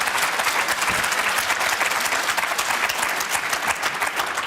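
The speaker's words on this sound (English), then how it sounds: "that got a very loud cheer from quite a lot of you" Studio audience at a BBC Question Time debate breaks into loud, sustained applause and cheering, a dense steady wash of clapping for several seconds with no clear talk over it.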